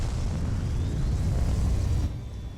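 A rocket lifts off in the Surviving Mars video game, a loud, dense roaring rumble that holds steady for two seconds before dropping abruptly to a quieter tail.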